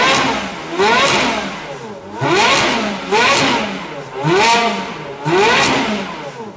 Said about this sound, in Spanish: Escuchad unas cuantas aceleraciones del Scuderia.